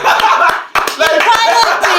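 Hand clapping bursts out amid loud podcast chatter, a quick run of sharp claps layered under overlapping voices and a bit of laughter.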